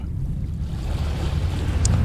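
Wavelets lapping against the base of a huge rock in the horror game Dagon, a steady low watery wash with wind-like rumble, continuous and fairly close, no voices.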